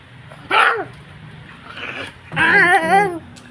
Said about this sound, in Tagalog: Guys, may aso po dito ang gala